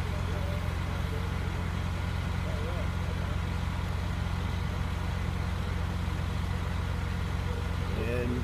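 Fire engine with a rear mount pump rated at 2,000 gallons a minute, running during a relay pumping drill, a steady heavy low engine drone, constant and close, with voices faintly in the background.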